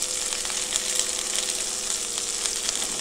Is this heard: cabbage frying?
yes